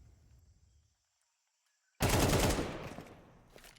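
Sudden loud burst of automatic gunfire in Counter-Strike 2 during a professional tournament match, rattling rapidly after a quiet stretch and sustained for over a second before tailing off.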